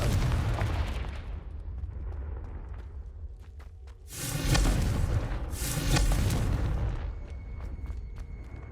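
Heavy booming blasts from a Confringo spell in Hogwarts Legacy erupt loud and close, two big explosions in succession with rumbling tails, followed by sharper crackling bursts.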